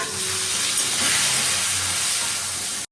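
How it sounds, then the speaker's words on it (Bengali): Potatoes frying in a pan in a home kitchen, a loud, close, hissing sizzle that stays steady for a few seconds before cutting off abruptly near the end. "আলুটা ভাজা চাপিয়ে দিই।"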